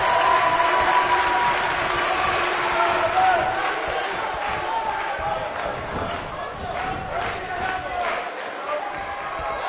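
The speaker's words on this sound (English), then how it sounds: "by the sound of this crowd, I think they're getting what they wanted" Crowd noise from a wrestling video game, a loud, steady roar of cheering and applause that swells and dips slightly throughout a match.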